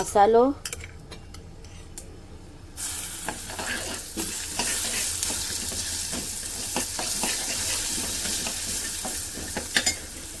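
Garlic masala hitting hot oil with peanuts and mustard seeds erupts into a loud, steady sizzle, broken by repeated clinks and scrapes of a stirring spoon against the pan, with no talking.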